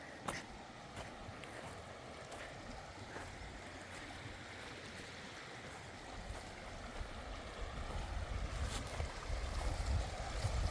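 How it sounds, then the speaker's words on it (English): The Klamath River near the Ash Creek access point flows with a soft, steady broadband rush, faint and distant, swelling a little louder toward the end, with a few light handling clicks and no talking. "And here's the Klamath River."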